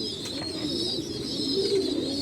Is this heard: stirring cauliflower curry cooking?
no